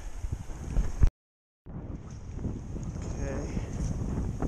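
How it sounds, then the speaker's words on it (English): Gusty wind buffets the microphone beside a mountain stream during fly fishing in the Sierras, a steady rough roar throughout, briefly cut out by a gap, with a short spoken word at the start. "It's hard with that wind."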